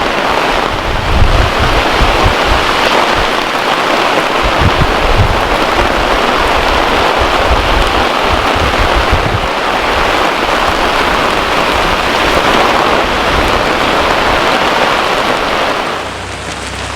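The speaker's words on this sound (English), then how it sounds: "I know that you can probably hear that rain." Steady heavy rain pours with wind at a bushcraft camp, a loud dense wash of drops and gusty rumble continuing unbroken for the whole stretch, with no voices.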